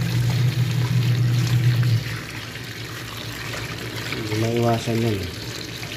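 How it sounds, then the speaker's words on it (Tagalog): Running tap water splashes while produce is rinsed, loud and close for the first two seconds before easing to a softer flow, with a person speaking briefly near the end. "Ilabad yung tubig guys para tanggal yung mga dumi-dumi niya."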